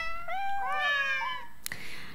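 A cute cartoon cat meow sound effect from a Naver homepage anniversary doodle: one clear, close, drawn-out meow with a rising then falling pitch, followed by a short click-like burst, with no talking.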